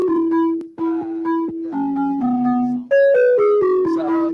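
A clean synth melody live-coded in Sonic Pi plays a short, stepping sequence of discrete plucked notes, with a brief gap partway through before it carries on higher, alone and fairly close.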